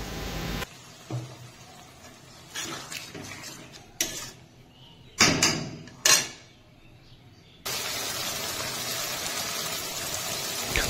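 Spices with salt, turmeric and a splash of water being stirred and fried for a rustic goat curry, with spoon scrapes and pot clatter, then a loud steady sizzle rising at the end.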